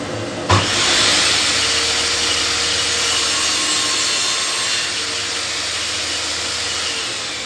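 An EXL 210mm table saw makes a compound miter cut in wood, opening with a sharp start and then a steady, loud, close whine as the blade runs through the cut for several seconds, fading slightly near the end.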